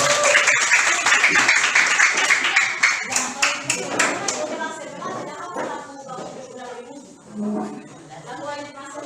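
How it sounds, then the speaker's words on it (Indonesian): Children in a classroom clap their hands in a lively burst of many claps that thins out after a few seconds, with voices talking over and after the clapping. "Oke, tepuk tangan."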